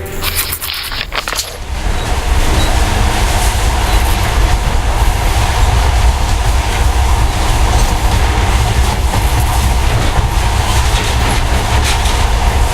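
A monorail train in the video game Metro Last Light runs steadily with a loud, continuous rumble and metallic rattling that starts up after a brief quieter moment and then persists throughout.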